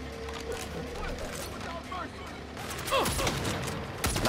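Gunfire from a weapon in the video game Saints Row (2022) sounds as a few sharp mechanical shots and bursts late in the sequence, layered over game effects and low background hum.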